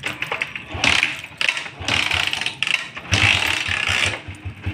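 A Honda TMX Alpha 125 motorcycle engine starts and idles up close, with several bursts of revving at an uneven rhythm and short dips between them.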